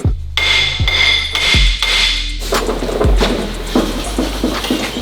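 A stuck brake rotor is struck with a hammer: several loud, sharp metallic blows at irregular intervals, close by, with ringing decay between hits.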